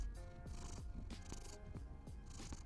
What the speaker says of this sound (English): Can y'all hear the purr?